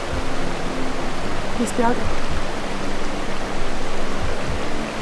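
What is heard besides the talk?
water flowing behind the speaker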